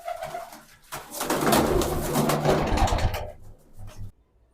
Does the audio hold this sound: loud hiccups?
no